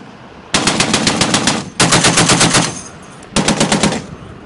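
US Marines firing crew-served machine guns, including the M249 SAW, M240 Bravo and M2 Browning .50 caliber, on Mount Fuji, Japan: three loud rapid-fire bursts separated by short pauses, close and alone.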